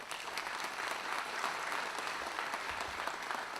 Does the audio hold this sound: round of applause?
yes